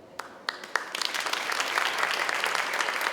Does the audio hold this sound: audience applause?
yes